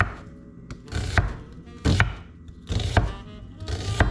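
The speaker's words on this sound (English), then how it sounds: "I'm going to cut my onion in half and start cutting it like a crescent shape" Knife chopping an onion into crescent slices on a board, several distinct close, loud cuts in an uneven rhythm with short pauses between them, no voices.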